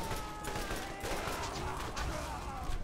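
Gunfire from Borderlands, a dense, rapid fusillade of shots crackling steadily for a few seconds at moderate level under a busy game soundscape.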